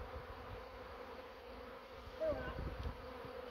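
A swarm of honeybees buzzes around a hive after being shaken from a tree, a dense, steady hum of many wings close by with individual bees droning past.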